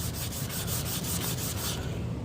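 Rhythmic back-and-forth rubbing of sandpaper on wood, sanded by hand with the grain, several even strokes in a steady cadence, close and fairly quiet.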